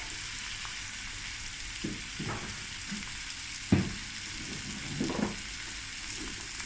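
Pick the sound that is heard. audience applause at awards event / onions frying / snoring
onions frying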